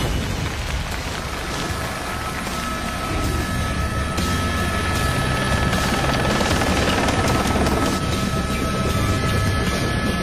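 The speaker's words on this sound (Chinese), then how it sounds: "一台真正的直升飞机，绝对不是模型" A full-size real helicopter at a televised stunt challenge runs with a loud, dense, continuous rotor and engine roar, steady and close for the whole stretch without any voices.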